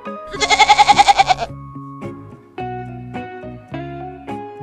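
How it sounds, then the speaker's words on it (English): A goat bleats in one quick, wavering burst of pulsed cries, loud and close, over a steady bed of gentle background music. "Where is the goat? Very good! Goat."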